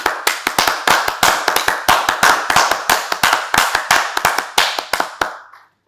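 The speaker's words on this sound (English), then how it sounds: "I think we should first clap for him." Applause for an award winner at a university valedictory function, a handful of people clapping in a steady, even rhythm of sharp, close claps that stops after about five seconds.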